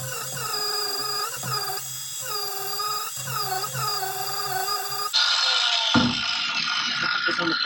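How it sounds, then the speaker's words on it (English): A sanding disc grinds against a metal part of a front lowering kit for a 2003-2006 Kawasaki KFX400 ATV, a whining tonal drone in repeated passes, then a harsher, louder grinding burst near the end. "Sanding disc I used. We're gonna sand both sides."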